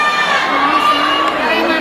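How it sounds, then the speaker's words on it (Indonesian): Loud crowd cheering and shouting at a Hong Kong beauty pageant final, with high-pitched screams and whistling voices massed together, steady and close throughout. "kalian mesti berteriak tepuk tangan yang sekencang-kencangnya."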